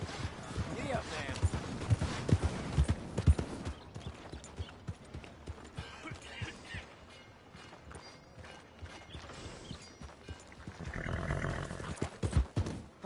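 Hooves of a horse in the video game Red Dead Redemption 2 clip-clop in a quick, steady rhythm, mixed with game sounds and growling noises, and a voice speaks briefly over them.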